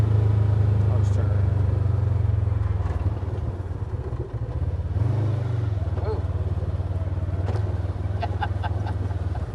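A Kawasaki Z950 side-by-side UTV turns around near a dam, its engine rumbling loudly and steadily close by with a dip and swell as it maneuvers, people talking over it and some clatter.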